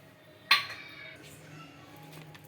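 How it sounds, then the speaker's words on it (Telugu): A spoon mixes boiled potatoes with salt and chilli powder for an aloo snack, giving one sharp metallic clink against the pot followed by soft faint scraping. "మొత్తం ఇలా కలుపుకుందాం ఈ ఆలులోకి అన్నీ మిక్స్ చేయాలన్నమాట"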